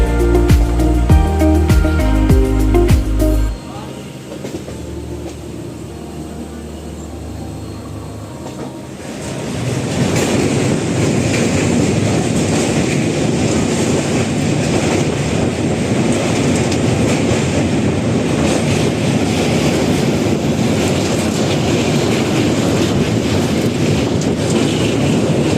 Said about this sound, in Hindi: ये किसी ट्रेन का इंजन ही है, जिसके कारण ये स्टार्ट है और आवाज़ बहुत तेज़ आ रही है बाहर से